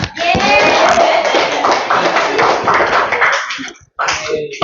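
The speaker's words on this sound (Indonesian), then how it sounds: "tepuk tangan" Loud, dense applause from a school class clapping together during a lesson, sustained for several seconds before briefly cutting off, then resuming.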